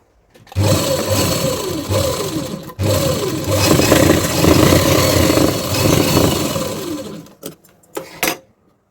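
An electric sewing machine runs close by, double-stitching a saree blouse in long, loud, steady whirring runs with a brief pause near three seconds, then stops and gives a few short bursts at the end.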